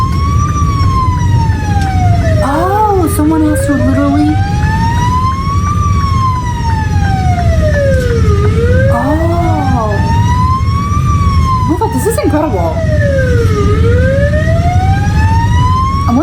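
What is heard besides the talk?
Norwegian fire department vehicle and ambulance siren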